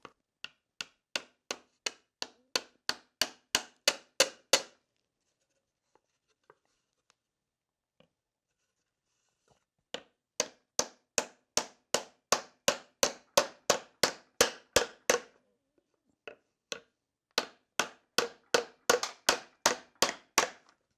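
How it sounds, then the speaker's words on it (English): A block of wood is struck repeatedly to drive a new seal into a Porsche 356 ZF steering box, sharp hammer taps in three rapid bursts that quicken and grow louder, separated by quiet pauses. "Make sure we have a block of wood here to drive this in nice and flat."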